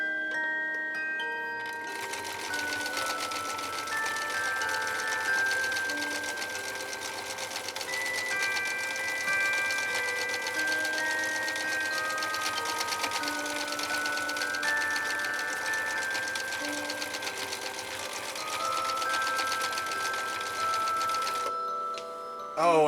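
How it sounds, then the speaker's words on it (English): A 1960s Husqvarna Viking 6440 sewing machine, freshly repaired and adjusted, runs a steady rhythmic stitching whir up close for about twenty seconds, with a brief clunk as it stops. "Let's do this final green stitch on Cam K, like Kevin or Kelly."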